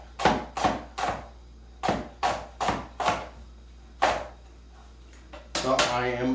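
A knife chops leeks on a cutting board in a run of sharp, evenly spaced knocks, close and crisp, with a pause before a few more cuts and a voice beginning to speak at the end.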